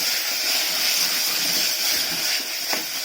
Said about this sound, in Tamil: இப்போ அதை லைட்டாக வதக்கிக்கலாம்.